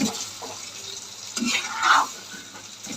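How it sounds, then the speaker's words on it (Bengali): Egg curry stirred in a pan: a soft scrape and swish of the spoon over a quiet, steady sizzle, with one louder stir near the end. "আর এই যে রান্নাটা একটু নাড়া দিয়ে নিন"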